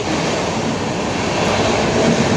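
A passenger train runs on the railway during a journey from Jamnagar to Chandigarh, giving a loud, steady rumble and roar heard from on board that continues with no pauses.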